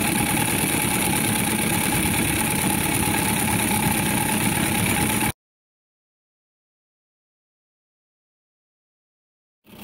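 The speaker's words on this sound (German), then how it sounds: "Die Maschine läuft gleich wieder leichter." A 1:5 scale model steam truck engine labours up an incline with a steady, dense chuffing and mechanical rumble for about five seconds, then falls abruptly silent.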